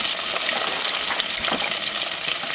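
Onion rings fry in hot oil with a dense, steady, loud crackling sizzle that stays close and continuous throughout, with no voices.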